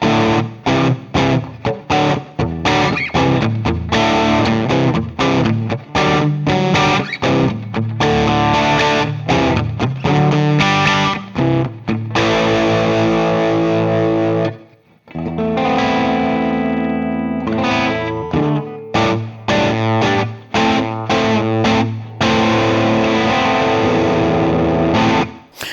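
An electric guitar played through a Laney tube amp plugin, loud and distorted with chorus-like shimmer, strummed chords and riffs running continuously with a brief pause midway.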